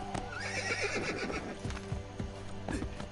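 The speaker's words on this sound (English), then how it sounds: "Ride like the wind. I need to name my horse." A horse in Assassin's Creed Brotherhood whinnies loudly with a wavering, descending neigh, and hooves clip-clop steadily beneath it with a few short snorts, close and clear against the game's ambient backdrop.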